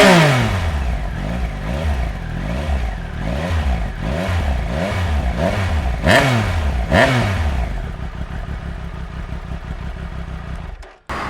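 A 2019 Triumph Speed Triple RS with its Arrow exhaust revs repeatedly in a steady rising-and-falling rhythm, loud and close, then settles into a rough idle before cutting off.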